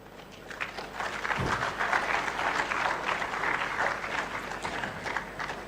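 A conference audience breaks into sustained applause, a thick, even wash of clapping from many hands that holds at a steady level with no speech.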